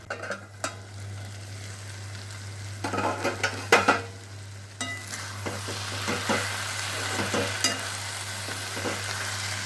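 Brinjal sabji sizzles steadily in a pan while a spoon stirs and scrapes against the metal in short bursts, close and fairly loud, with no talking.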